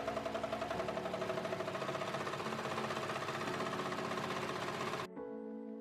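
A sewing machine runs steadily, stitching a long fabric strip along the top to join two sleeve pieces of a patchwork quilt dress, its rapid rhythmic whir close and even before cutting out abruptly near the end.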